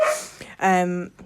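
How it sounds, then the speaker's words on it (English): A dog indoors lets out a short, sharp bark followed by a longer whining yelp, close and fairly loud, with a person's voice nearby. "Excuse the dog."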